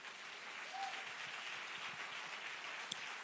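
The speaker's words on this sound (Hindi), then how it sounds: "जोर से ताली बजाओ" Faint, even applause from a congregation at a church service, a soft continuous patter of clapping with one sharp clap near the end.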